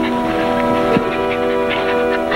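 A dog whimpers and yips softly in a high, wavering whine, close by, with a brief sharper yelp near the middle and a faint hum underneath.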